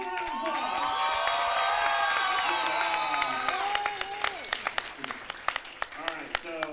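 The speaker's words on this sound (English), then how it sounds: "More round of applause!" Audience applauds and cheers at a fursuit dance competition, a dense crowd roar with whoops that thins into scattered individual claps toward the end, fairly close and moderately loud.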